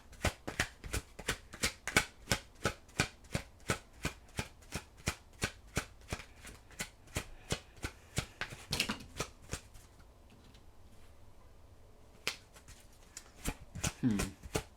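Tarot cards are shuffled in a fast, even run of crisp riffling slaps, close and fairly quiet, pausing briefly before a few looser shuffles and soft card handling near the end.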